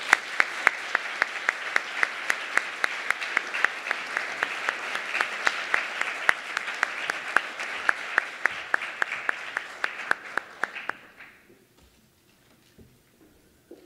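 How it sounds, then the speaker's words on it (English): An audience applauds at the Golden Apple Awards ceremony, with dense, steady clapping for about eleven seconds that then fades quickly into near silence. "Can we hear another round of applause, please, for Ms. Garvey tonight?"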